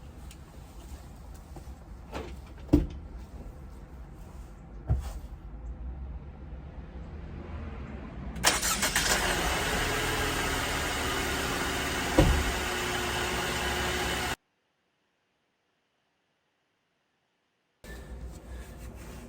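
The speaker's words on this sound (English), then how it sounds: "Now I'm going to start the car and I think you'll see it happen." A Sprinter van engine cranks and catches at about eight seconds, then settles into a steady, fairly loud idle. Quiet handling noises and clicks come before it, and the recording cuts out briefly near the end.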